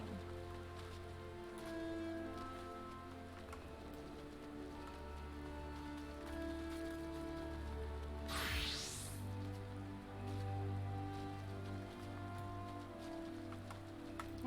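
Continuous rainfall in Final Fantasy XIV, a dense, even patter that holds steady over several seconds, broken once by a brief rising whoosh midway, with a low ambient drone beneath and no talking.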